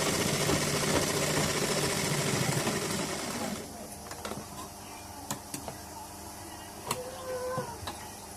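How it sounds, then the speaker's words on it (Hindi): A sewing machine stitches along a blouse edge with a rapid buzzing run for a few seconds, then stops, leaving scattered clicks and handling taps at a quieter level. "किनारी सिलाई लेना है"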